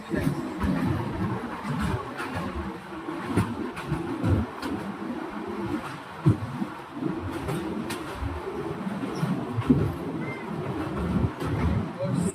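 Steady low rumble of a passenger train running, heard from inside a carriage on a long journey in West Bengal, a continuous rolling drone with faint rattles and clacks throughout, fairly loud and even.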